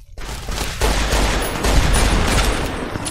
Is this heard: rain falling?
no